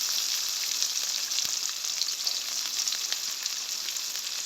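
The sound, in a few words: onions and green chillies frying in oil for chicken curry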